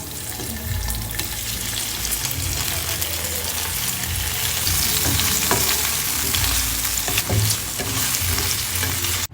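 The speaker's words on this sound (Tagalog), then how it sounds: "Ginisa ko lang ng very light, tapos nilagay ko na tong hipon." Shrimp sautéing in a pan with butter and garlic, a steady close sizzle and frying crackle running throughout with occasional stirring scrapes, no voices.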